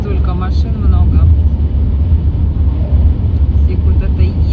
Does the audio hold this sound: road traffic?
yes